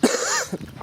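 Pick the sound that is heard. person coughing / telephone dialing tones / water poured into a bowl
person coughing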